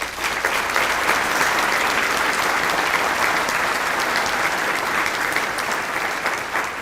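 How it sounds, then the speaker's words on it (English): An audience at a school district superintendent's breakfast gives a round of applause, a dense, steady wash of clapping that holds evenly throughout without speech. "I'd like to give them a round of applause"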